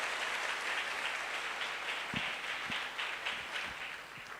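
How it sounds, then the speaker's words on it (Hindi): Crowd applause at a Safe Shop motivational speech event, a steady dense wash of clapping from a large audience lasting throughout, fairly loud and alone with no talk over it. "तालियां होनी चाहिए"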